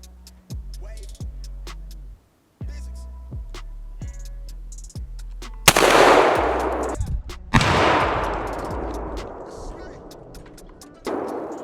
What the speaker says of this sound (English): So let me get another target up and we'll shoot it at 40, see what happens.